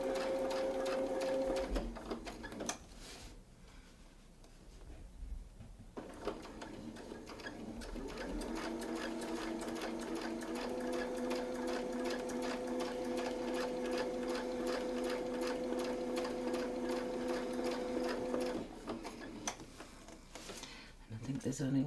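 A Westalee Design Mini SFX template guides a sewing machine through quick quilting designs, its needle running in steady, fast bursts with a brief pause early on, close and fairly loud, with a voice talking over it.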